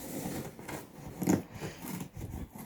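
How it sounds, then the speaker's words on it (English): Quiet scissors snipping and rasping through stiff material, a steady run of close cuts with faint rubbing. "So if I cut the box, I can show you via the front"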